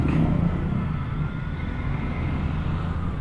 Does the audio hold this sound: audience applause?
no